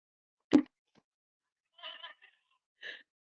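A vintage thrift-store farm animal toy gives out short electronic animal calls, one sharp sound followed by two bleating, goat-like bursts separated by silence, close and clear.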